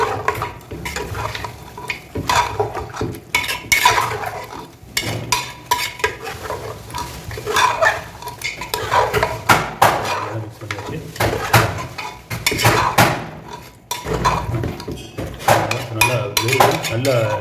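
Chicken with bottle gourd gravy is stirred in a pot, making repeated scraping and clattering strokes of a utensil against metal over a low simmering sizzle, close and busy for the whole stretch.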